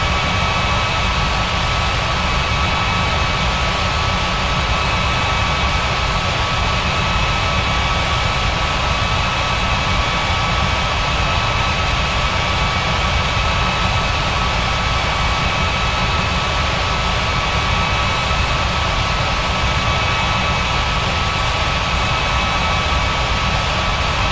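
A jet airliner's engines roar at takeoff from runway 09 at Bali's Ngurah Rai airport in an air traffic control video game, a loud, steady broadband rumble and whine held throughout with no speech.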